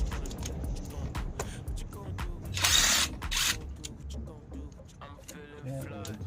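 A ratchet clicks in quick, uneven bursts while a screw is removed from a 2008 Toyota Camry during spark plug replacement, close and crisp, with a louder rasping stretch midway.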